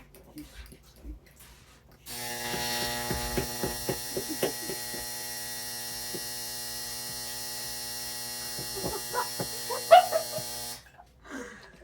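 A clothes dryer's low, steady hum with a droning tone starts abruptly, runs for several seconds, then cuts off; faint clicks and tumbling knocks occur underneath.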